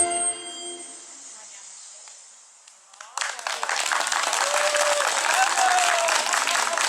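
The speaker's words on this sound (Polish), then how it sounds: "Wielkie brawa dla naszych aktorek." Applause breaks out at a family-day performance at a care home after a Cinderella play, with a crowd clapping loudly and continuously after a quieter opening with faint tones.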